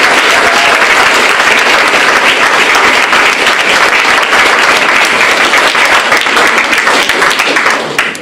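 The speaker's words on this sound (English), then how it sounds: "I'd be remiss without calling for a big round of applause and a big thank you for those advisors who guided us today." Audience applause for the student advisors at a capstone presentation event, dense and sustained clapping from a sizeable crowd that holds steady for several seconds before tapering off at the end.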